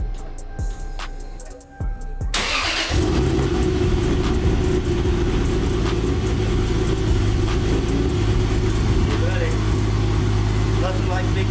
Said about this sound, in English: about to fire up the 2JZ